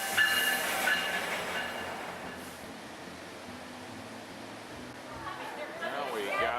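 Passenger train riding into Toronto, a steady interior rumble of the railcar with faint wheel clatter and some squealing near the end, carrying on continuously at moderate level.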